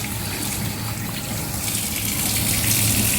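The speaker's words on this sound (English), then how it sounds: "get rid of the juice liquid" Liquid drained off washed Spanish mackerel pours in a steady gushing stream, close and continuous, growing slightly louder toward the end.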